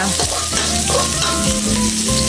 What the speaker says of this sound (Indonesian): Kita tumis bawang merah sampai terlihat kecoklatan, agak kecoklatan.